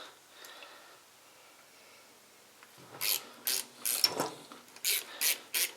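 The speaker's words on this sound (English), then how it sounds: "We'll grab a 3/8 wrench." A 3/8 wrench ratcheting on a Harley Big Twin starter's bolts: after quiet handling noise, about seven short, close ratchet bursts in a steady rhythm.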